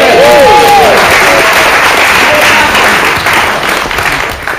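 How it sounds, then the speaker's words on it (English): Wedding guests applaud during the groom's speech at a reception, a loud, dense burst of clapping with voices mixed in that gradually tapers. "Okay, so clap."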